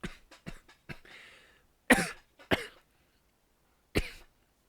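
A person coughs in a series of sharp bursts, some single and some close together, with pauses between them and one last loud cough near the end. It sounds near and dry, with no talking.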